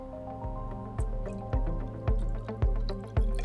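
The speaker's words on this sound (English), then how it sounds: "So I'm going to pour in about 45 milliliters of vinegar into my graduated cylinder." Vinegar pours into a graduated cylinder in a series of short dripping, splashing bursts, roughly twice a second, close up and fairly quiet.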